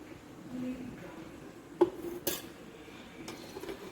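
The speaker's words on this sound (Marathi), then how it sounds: "आपण आता दुसरीकडे भाजीची फोडणी तयार करतो त्यासाठी आपल्याला ही कढई घेतली आहे मी आणि या कढईमध्ये आपल्याला थोडं तेल घालायचं आहे" A kadhai (wok-like pan) is handled on the stove as oil is poured in for tempering, giving a sharp metallic clank followed by a softer knock and a light rattle over quiet kitchen background.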